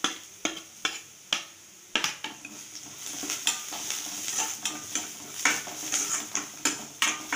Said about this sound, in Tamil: வெங்காயம் நல்லா வணங்கட்டும்.